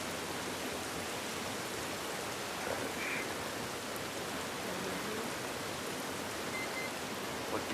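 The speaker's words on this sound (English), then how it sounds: "Love the attention to detail, the rain falling off their faces." Steady rain falls in The Last of Us video game, a dense, even hiss that holds without a break and with no voices.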